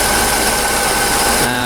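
A Mercedes CLK engine with a low-coolant fault runs at a steady idle, a continuous close hum with a faint whine on top that holds level throughout.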